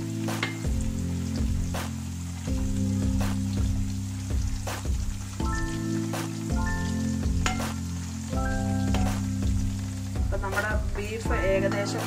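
Beef frying in a pan for beef pickle, a steady loud sizzle running throughout, with repeated clanks and scrapes from stirring and a few brief sharper crackles.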